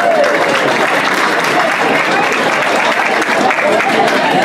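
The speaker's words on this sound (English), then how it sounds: "A big round of applause for all of those in attendance," A large crowd at a 2017 Hall of Fame induction ceremony gives a loud, dense round of applause that holds steady throughout, filling the hall with sustained clapping.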